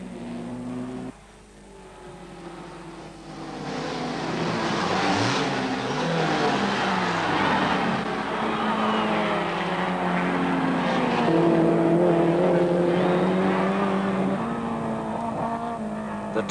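1960s touring race cars lap at the Sandown 6 Hour, engines droning loudly and shifting pitch as they accelerate and pass, with overlapping cars sustained through the run.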